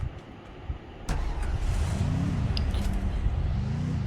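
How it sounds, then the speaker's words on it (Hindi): A car in a battle royale shooter game revs up and drives off: after a quiet start, a loud engine kicks in suddenly and holds a steady roar, rising and falling in pitch as it accelerates and shifts. "वहाँ पे गाड़ी खड़ी है साइड में, हम गाड़ी लेके जाएंगे"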